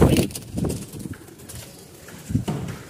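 Domestic giribaz pigeons coo nearby in a few low, throaty bursts, loud and close, with pauses between calls.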